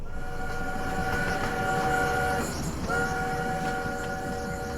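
A train running as an audio-drama effect: a steady rumble of rolling wheels beneath a sustained horn blast that breaks off briefly and returns, loud and continuous with no talk.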